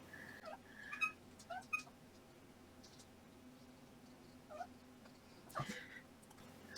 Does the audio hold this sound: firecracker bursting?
no